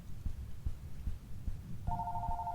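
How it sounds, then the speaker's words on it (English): A telephone rings in an alien abduction story video game, a steady electronic double-tone ring starting partway through over a slow, throbbing heartbeat-like pulse. "Oh, phone call."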